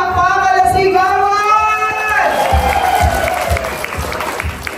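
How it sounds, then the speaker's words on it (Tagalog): Guests at a golden wedding anniversary celebration break into applause and cheering after a voice finishes speaking, the clapping rising loud and continuous amid crowd noise. "Pwede ko po bang marinig ang inyong isang malakas na palakpakan na sigawan?"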